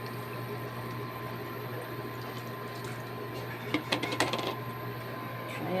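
A little water is added to a pan of cooking vegetables with bell pepper, making a brief splashing and bubbling burst over a steady background hum, near and moderately loud.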